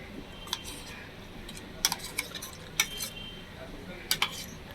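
A ground ginger, garlic and onion paste being added to spices in a pan and stirred, heard as scattered light clinks and taps of a spoon on the pan over a steady low background hiss.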